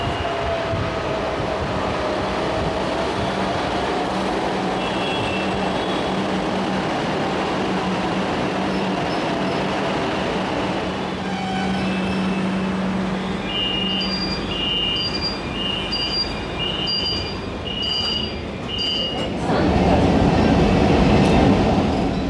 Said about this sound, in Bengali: আমাদের অপেক্ষার অবসান ঘটিয়ে ট্রেন এসে হাজির